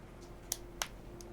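Two sharp hand claps about a third of a second apart, then a fainter third click, quiet against a low background hum.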